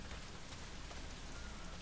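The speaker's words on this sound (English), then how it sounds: "Well, not if it's pissing down rain." Steady, dense rain pours down in the survival game Days Gone, a continuous hiss of drops on surfaces filling the whole stretch with no speech over it.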